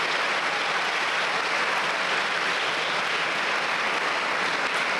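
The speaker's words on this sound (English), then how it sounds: "Students, let's also give a round of applause to our teachers." Steady applause from a school assembly audience of students clapping for their teachers at an eighth-grade awards ceremony, a dense, even wash of clapping that holds continuously and alone throughout.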